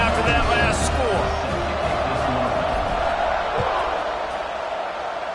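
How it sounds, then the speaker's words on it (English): A stadium crowd in the College Football 26 video game keeps up a dense, steady roar and buzz after a score, filling the background from start to finish. "this crowd is buzzing after that last score."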